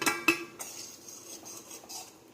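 A utensil scrapes and clinks against a kadai as gram flour is stirred into hot ghee for mohanthal, sharp metallic knocks near the start, then softer intermittent scraping, close and fairly quiet, with no talking.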